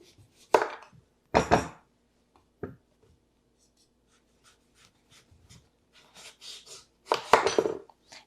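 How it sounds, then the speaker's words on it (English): Knife chopping the sides off a butternut squash on a cutting board: a few sharp, separated chops, close and fairly loud, with quiet gaps between and a final cluster of cuts near the end. "I'm going to start out with the butternut squash. We're going to chop the sides."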